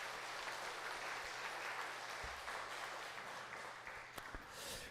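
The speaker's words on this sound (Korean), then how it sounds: "다시 한번 하나님께 영광의 박수를 드리도록 하십니다." A church congregation applauds steadily as a dense, continuous wash of clapping heard from within the room, fairly faint overall and holding at an even level throughout.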